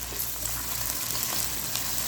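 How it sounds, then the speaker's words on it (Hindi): Chicken fries in hot oil for yakhni pulao, giving off a dense, steady sizzle that fills the clip at close range with faint crackles and no voices. "मैंने तकरीबन 2 से 3 मिनट अच्छे तरीके से चिकन को इस ऑयल में फ्राई करना है"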